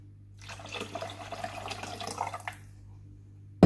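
Tap water runs steadily into a one-litre plastic water bottle for about two and a half seconds while it is refilled, with a low steady hum beneath, then stops with a brief knock at the end.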